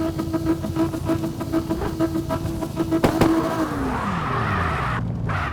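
A drifting car in a video game on a mountain road, with a loud revving engine and a long squeal of sliding tires, then the engine note falls away as the car slides.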